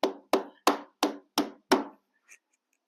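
Six even hammer blows drive nails into a shed window frame, sharp, loud and close, evenly spaced about a third of a second apart, followed by a faint small knock.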